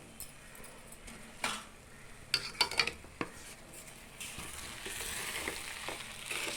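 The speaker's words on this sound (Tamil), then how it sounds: "எல்லாத்தையும் ஒன்றா போட்டு கலக்கணும்" Semolina and sugar are stirred together in a pan for rava kesari, with quiet scraping, a cluster of sharp metallic clinks of a utensil on the pan, then a rising soft hiss toward the end; no one speaks.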